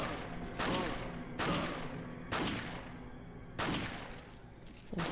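Four sharp gunshots from Resident Evil 4, spaced roughly a second apart, each a loud broadband crack with a short decaying tail, over a low, steady game ambience.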